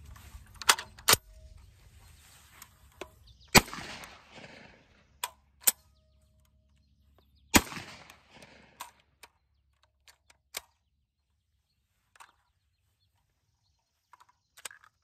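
A Black Ace Tactical Tank 12 shotgun fires roughly seven or eight sharp, loud blasts at irregular intervals, with quiet gaps for handling between some shots and brief echoing tails after the bigger reports.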